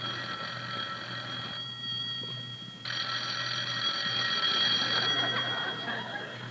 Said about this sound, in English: Rochester, the phone.